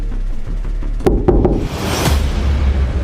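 Three sharp knocks land on a door in quick succession, loud and close, followed by a softer thump and room noise, with no voices.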